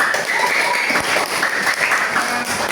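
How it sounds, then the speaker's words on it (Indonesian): A classroom of students claps together during a lesson, a dense continuous patter of applause holding steady for a few seconds, fairly loud and close. "Ya, tepuk tangan."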